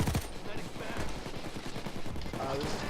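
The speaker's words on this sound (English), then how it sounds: "This is the SMG from the biker heists." Rapid SMG fire from the Payday 2 video game on Switch, with dense continuous bursts running the whole time and a brief voice near the start.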